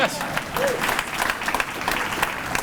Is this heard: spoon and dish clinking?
no